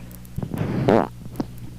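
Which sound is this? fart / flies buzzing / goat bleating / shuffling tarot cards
fart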